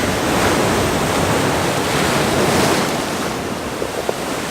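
Ocean surf breaks against a rocky sea stack, a loud, continuous roar of churning water mixed with wind buffeting the microphone, with no voices.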